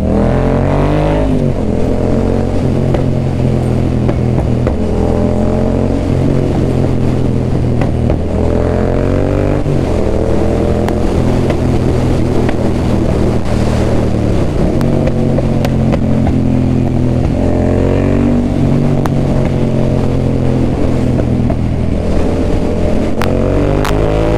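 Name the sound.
motorcycle with aftermarket carbon exhaust revving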